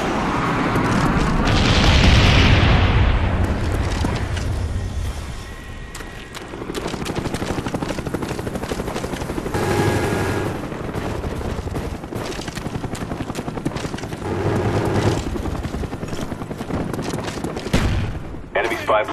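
Call of Duty Black Ops multiplayer on the WMD map brings a Cobra attack helicopter and a napalm strike, with loud rumbling booms, explosions and bursts of gunfire under game voice announcements.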